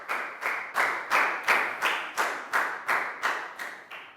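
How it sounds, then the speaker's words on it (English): Classroom students in a Year 4 English lesson clap for a pupil in a unison rhythm, about eleven evenly spaced bursts of clapping, close and moderately loud. "Big round of applause for Bangpon,"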